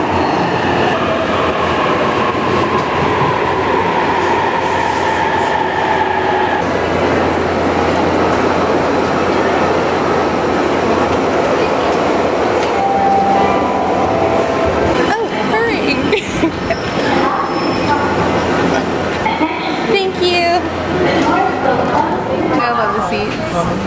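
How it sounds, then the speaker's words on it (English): Riding inside the Narita Express train to Ikebukuro, a steady rumble of rails and carriage noise fills the cabin, with clickety-clack and a recorded announcement voice over it. "Ladies and gentlemen, welcome aboard the Narita Express bound for Ikebukuro."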